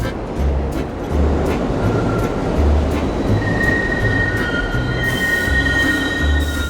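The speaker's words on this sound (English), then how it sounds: "When a train like that comes into the station or is about to leave the station" A subway train rumbles loudly nearby, wheels clattering in a steady rhythm, then high metallic squeals rise as it moves along the track.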